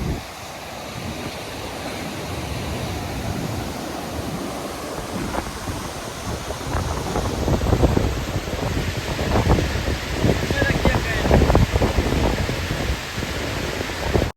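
Glacial meltwater of the Ganga rushes at Gaumukh, the glacier snout, a loud steady broadband roar of torrent that swells and churns continuously, with wind buffeting the microphone and no talking.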